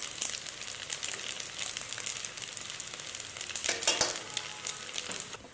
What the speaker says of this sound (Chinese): 煎到面筋表面金黄发脆，当然了，你也可以用油炸，